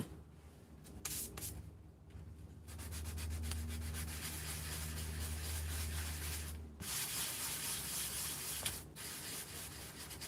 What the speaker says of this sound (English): My little sander.